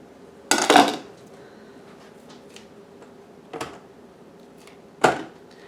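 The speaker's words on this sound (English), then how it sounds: "We are cutting up our onions for the relish." A knife chops onions on a cutting board for dill pickle relish, giving three separate, fairly close strikes spaced well apart with near silence between them.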